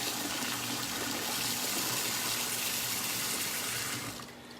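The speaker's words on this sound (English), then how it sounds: "when you put cold water in over these eggs" Cold tap water runs steadily over boiled eggs in a pot at a kitchen sink, a constant close splashing stream that fades as the flow is cut near the end.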